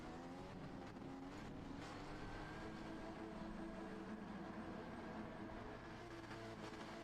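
Race cars in Gran Turismo 7 at Laguna Seca, including a stock Genesis GR4, drone steadily with a dense, continuous engine roar that stays fairly even and fills the whole stretch without any speech.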